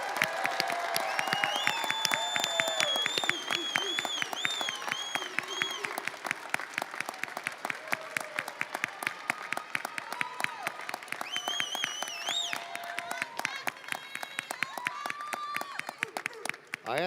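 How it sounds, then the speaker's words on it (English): Sustained applause from a commencement audience greets the McNeese State University Fall 2020 graduating class, dense clapping mixed with cheers and whoops throughout, along with some background voices and music-like tones. "Give them a round of applause."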